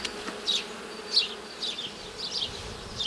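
Honeybees at an opened alpine-style hive buzz close by, with several passes rising and fading over a low background hum.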